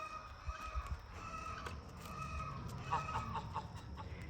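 A rooster and chickens clucking and murmuring at moderate distance on a small farm, with a few sharper clucks partway through over a low outdoor background.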